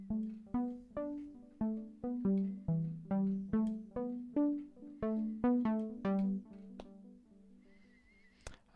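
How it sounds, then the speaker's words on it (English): Keyboard synthesizer patch played an octave lower, a quiet sequence of plucky, bell-like notes in a steady rhythm that each decay quickly, thinning out toward the end. "and it's just a kind of a keyboard synthesizer sound,"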